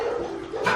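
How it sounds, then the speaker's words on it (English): A German Shepherd named Gabby barks from nearby, a short burst of rough barking that swells in the last moments with no talk over it. "Gabby's barking."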